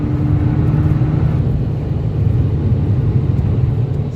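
A Stage 1+ tuned Fiat Punto Abarth cruising at about 140 km/h, heard as a steady low engine drone mixed with road and wind roar from inside the cabin, constant and unbroken with no speech.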